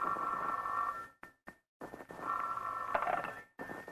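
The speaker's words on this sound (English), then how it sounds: "the next morning, the phone rang early." An old-fashioned telephone bell rings loudly in a classic radio drama, in two long bursts separated by brief silences, with no voices over it.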